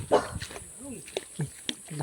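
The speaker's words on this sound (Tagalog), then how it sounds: "Matapang pala yung aso." A dog barks a few short times amid people talking nearby, the barks sharp and brief against a noisy outdoor background.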